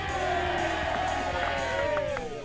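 Club crowd at a grassroots Australian football gathering roaring approval for a goal, a continuous wall of cheers and whoops with individual shouts breaking through.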